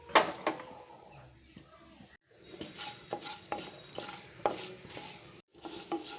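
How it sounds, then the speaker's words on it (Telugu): Fenugreek, coriander and mustard seeds dry-roast in a pan for gongura pickle, heard as quiet intermittent scraping and rattling of seeds stirred against metal, close and uneven with brief pauses. "ఇదే బాండీలో 1/2 స్పూన్ మెంతులు, 2 స్పూన్ల ధనియాలు, అలాగే 1 స్పూను ఆవాలు దోరగా వేయించుకోవాలి."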